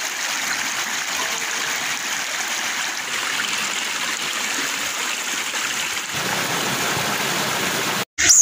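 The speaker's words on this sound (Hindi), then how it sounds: "अपन लोग अभी फिलहाल नर्मदा नदी जो पीछे देख पा रहे होंगे वहाँ से कुंड है" The Narmada river flows out from its source kund at Amarkantak in a constant, close rushing babble that runs steadily until a brief dropout near the end.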